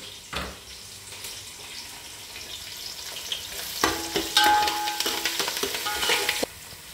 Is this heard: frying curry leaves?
yes